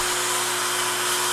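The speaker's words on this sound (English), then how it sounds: "move it back and forth, sanding slowly to remove any of these tooling marks" Sandpaper rubbed by hand over an aluminum piece to remove tooling marks, a close continuous hissing scrape with a steady tone running through it, no talking.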